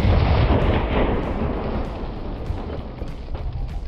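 JTS-12 semi-automatic shotgun firing an enhanced .50 caliber load, a single heavy boom at the start followed by a long rumbling decay, heard alone.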